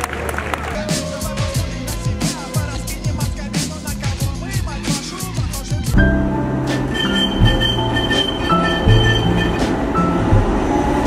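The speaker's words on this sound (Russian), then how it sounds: "В Будапеште ходят самые длинные в мире трамваи" A very long tram in Budapest rolls past with rumbling wheels, rhythmic clacks over rail joints and squealing, loud and near, then a steadier roar as it continues by.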